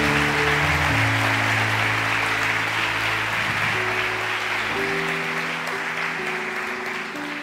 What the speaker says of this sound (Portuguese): Você pode dar um aplauso aí para Jesus